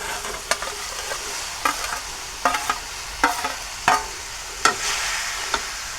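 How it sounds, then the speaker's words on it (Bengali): Meat and vegetables frying in hot oil, with a steady close crackling sizzle and a regular series of sharp stirring scrapes roughly every half second to second. "তেলটা একটু গরম হয়ে গেলে আমি মাংসটা তার সাথে সবজিটাও দিয়ে দিব।"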